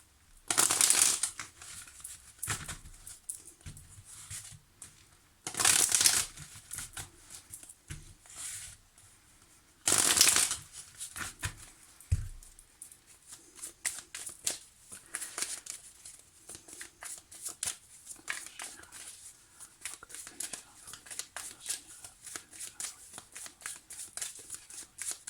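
Tarot cards shuffled by hand in loud riffling bursts, with three strong bursts near the start and then a run of softer, scattered card flicks and taps.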